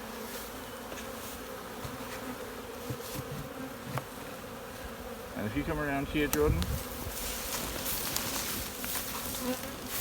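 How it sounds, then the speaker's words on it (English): A honeybee swarm hums steadily around a hive entrance with new foundation frames, a dense continuous buzz close by, while someone speaks briefly over it midway. "bees that are in the grass are just starting to walk in"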